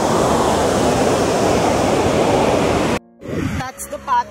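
Roaring waterfall at Aharbal in Kashmir, a loud, steady broadband rush of falling water that fills the first three seconds before cutting off abruptly to quieter surroundings with brief faint sounds.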